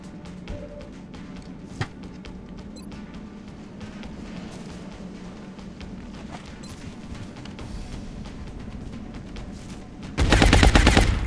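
Gunfire in XCOM Long War plays over a low continuous rumble, with one sharp crack near the start, then a loud, dense automatic burst close at hand near the end.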